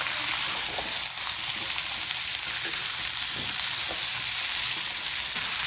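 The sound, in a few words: mixing carrot, potato and pea sabzi in a pan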